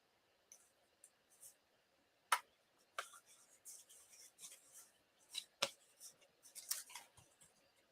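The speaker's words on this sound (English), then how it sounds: "I can trim that." Scissors trim a sheet of watercolored stamped card in a quiet room, giving a series of separate crisp snips and small paper rustles spread unevenly across the clip.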